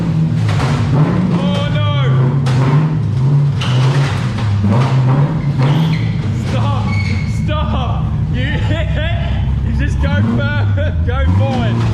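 A badly running drift car engine idles roughly near a shop, its low, uneven, wavering note sitting under steady chatter from several people talking.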